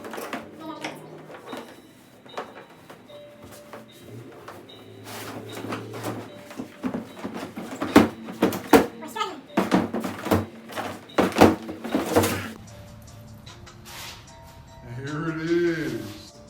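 Cardboard packaging for a Mytee Spyder carpet extractor is handled and pulled open, giving scattered thumps, rustles and flap scrapes of uneven rhythm, loudest in a flurry near the middle. A person talks intermittently throughout.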